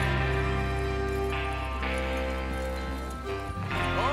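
Horses clop along in a western-style video game, hoofbeats blended into a loud steady bed of music and ambience, with a brief whinny near the end.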